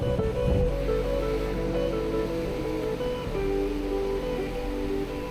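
Ocean waves break steadily on a surfers' beach, a continuous broad wash of surf with a low rumbling roar and no talk.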